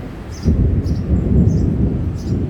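Heavy rain roars steadily in Nakhon Phanom as deep rolling thunder rumbles beneath it, a dense, loud wash of downpour with low booming swells and no talk.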